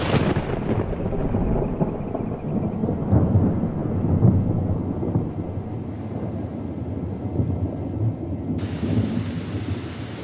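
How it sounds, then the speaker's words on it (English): Heavy rain pours steadily through a thunderstorm on the Inner Hebrides islands, with deep rolling thunder rumbling throughout and gusty wind buffeting the microphone, loud and close with no voices. "When it rains here, it really rains."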